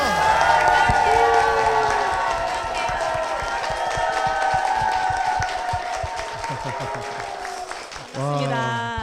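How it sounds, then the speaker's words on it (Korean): Applause and cheering from a church congregation rise loudly at the opening of a broadcast interview, a dense, sustained wash of clapping mixed with crowd noise and music, cutting off abruptly near the end as a voice begins. "박수와 함성으로 뜨겁게 시작을 했습니다"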